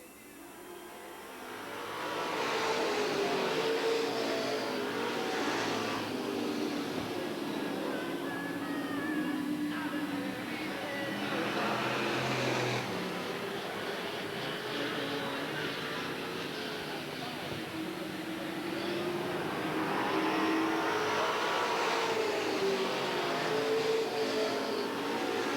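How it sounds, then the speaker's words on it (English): Super stock race cars circling Eugene Speedway, a continuous roar of engines that swells and fades as cars pass, distant crowd ambience, with an announcer calling the race over it. "Mark Jones in the 101 car continues to lead Shelley Bennett, Frank Brewer."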